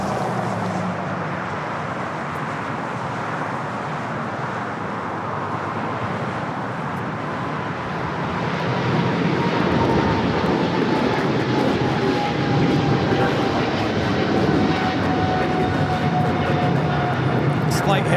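An American Airlines jet airliner rolls for takeoff at LAX, bound for London Heathrow, its engine roar building from a steady rumble to a louder broadband surge with a faint whine, with people talking underneath.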